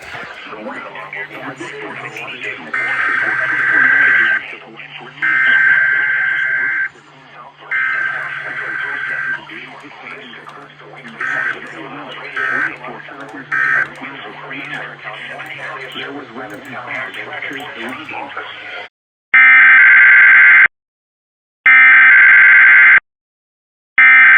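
An Emergency Alert System warning tone from a Snohomish County Department of Emergency Management test broadcast: a loud, steady two-tone alarm sounds in three long bursts, following a stretch where a voice talks over faint, broken tone fragments.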